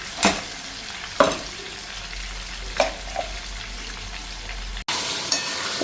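Rice lightly frying in a pan, a steady soft sizzle broken by a few sharp stirring scrapes and knocks, with a louder burst of sizzling near the end; no talking.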